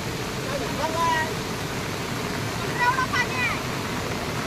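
Floodwater swells through a farm field, a steady broadband rush of flowing water that runs throughout at moderate level, with faint voices talking now and then over it.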